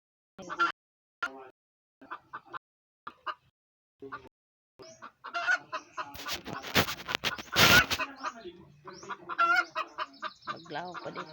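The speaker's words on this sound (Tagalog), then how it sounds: "Tutak na nga akong manok guys." A chicken clucks outdoors in short, separated bursts, then the calls grow denser and louder alongside rough, noisy rustling near the microphone.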